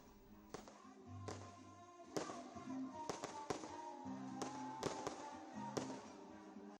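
New Year 2025 fireworks and firecrackers set off across India, making a string of sharp, loud bangs and pops at uneven intervals over a steady background rumble of celebration.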